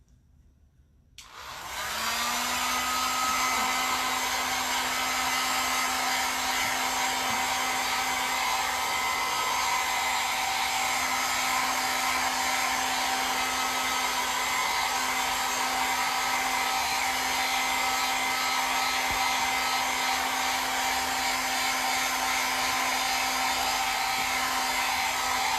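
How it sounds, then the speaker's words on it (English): A small blow dryer dries a chalk-paste craft project. It switches on after about a second and gives a loud, steady, continuous whir close by, with no voices. "to make sure it's all dry and use a little blow dryer"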